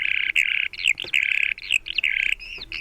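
Rapid, continuous skylark song in open farm country: bright warbling and trilling phrases pour out almost without a break, loud and close. A few short gaps separate the bursts.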